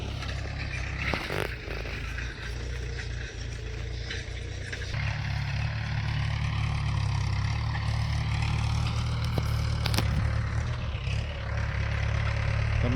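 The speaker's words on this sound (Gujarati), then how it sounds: "આજે તો ખેતર ખેડવા માટે ટ્રેક્ટર આવેલું છે." A tractor ploughing a farm field runs with a continuous low engine drone throughout, joined by scraping and clattering noises, with a slight rise in the engine note partway through.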